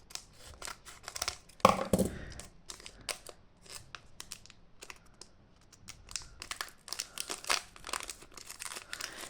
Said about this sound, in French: On va prendre un ciseau. Et on va couper ça.